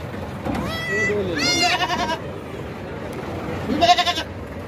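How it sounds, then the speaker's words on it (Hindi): A goat being loaded for cargo transport in Pakistan lets out several wavering bleats, close and fairly loud, spaced a second or two apart over a busy outdoor background with voices murmuring. "ये बकरी है।"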